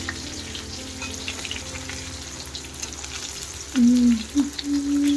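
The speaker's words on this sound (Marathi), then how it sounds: "एका बाजूनं मस्त फ्राय करून घेतल्याला दुसऱ्या बाजूने करतो" Fish fillets frying in a pan after being flipped to the second side, with the gas already switched off. A steady, moderate sizzle runs throughout, and a louder tonal squeal or hum rises over it near the end.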